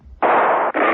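Two loud, harsh bursts of gunfire from a radio drama sound effect, the first longer and the second following a very brief gap, with no voices.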